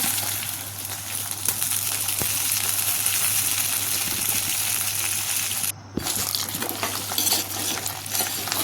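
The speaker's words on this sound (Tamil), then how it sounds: "மண்சட்டில் கடுகு போட்டுட்டு அதிலேயே உரிச்சு வச்ச பூண்டையும் போட்டு நல்லா வதக்கிடுங்க" Garlic, green chilies and curry leaves sauté in oil with mustard seeds in a clay pot, producing a continuous close sizzle with stirring scrapes and a brief dip in the middle, with no voices.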